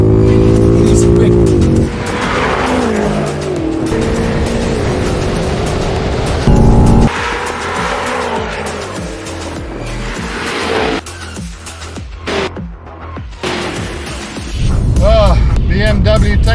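Loud engines of a BMW M5 and a Mercedes-AMG E63 S rev and roar as the cars launch hard in a drag race, with tire squeal and rising engine pitch. A voice talks over the racing noise.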